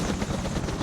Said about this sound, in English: you can hear new sound effect for the Hueys, much nicer than the original sound